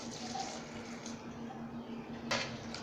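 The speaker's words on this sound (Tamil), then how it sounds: "மஞ்சத்தூள் 1/2 டீஸ்பூன், பெருங்காயத்தூள் 1/2 ஸ்பூன், உப்பு, வேகிறதுக்கு அளவாக தண்ணி சேர்த்துக்கலாங்க" Water poured into a pressure cooker holding ridge gourd kootu with turmeric, asafoetida and salt, a steady soft running wash with a faint splash near the end, no talk.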